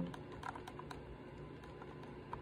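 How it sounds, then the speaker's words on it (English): A quiet, soft-keyed computer keyboard being typed on, faint scattered muted taps over a low background hum, with no talk. "this is my new keyboard. Listen to how quiet it is."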